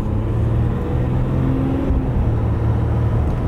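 A 2016 RAM 1500 Outdoorsman pickup climbing uphill, its engine a steady loud low rumble heard from inside the cab, with a slight droning tone that wavers slightly.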